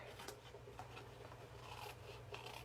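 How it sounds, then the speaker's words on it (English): Scissors snip paper in small fussy cuts around a design for a handmade birthday card, a few quiet crisp clips and rustles heard close up against faint background hiss. "we're just going to give this a little fussy cut right here"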